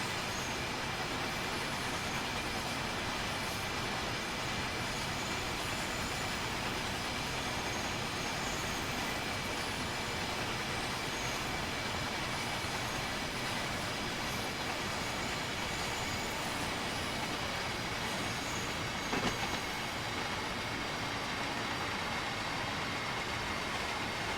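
Hopper wagon train braking in Train Sim World 5, a steady loud rumble of rolling wagons with a faint brief squeal near the end, continuous and close throughout.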